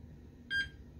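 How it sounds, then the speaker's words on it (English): A hoverboard controller gives a single short electronic beep while being calibrated for a robot drive, a clear, close tone against a quiet background hum. "hold this button down for 5 seconds and you'll hear a beep"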